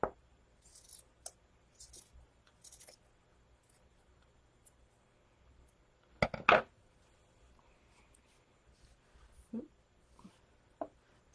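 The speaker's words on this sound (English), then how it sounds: "And then I can trim these pieces down here a little more even." Scissors trim small pieces for a Chalk Couture sign, producing a few scattered quiet snips and rustles, with a couple of louder close cuts midway in an otherwise quiet room.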